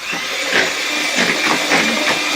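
An electric mixer whirring through banana bread batter, a continuous close motor drone with rhythmic surging as the beaters churn, no talking.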